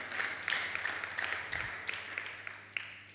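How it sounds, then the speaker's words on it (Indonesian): Church congregation clapping during a Sunday worship service, a steady wash of hand claps filling the room at moderate level with scattered sharper claps, no voices over it. "Tepuk tangan untuk Tuhan."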